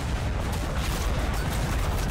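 Tank cannon fire in a war video game amid a continuous wall of booming battle noise, heavy, loud and dense with no clear gaps.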